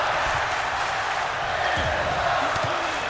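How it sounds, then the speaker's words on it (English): Arena crowd in a wrestling video game chanting "This is awesome", a steady loud roar of voices filling the space, with faint thuds from the action underneath. "The crowd of "This is awesome" chant."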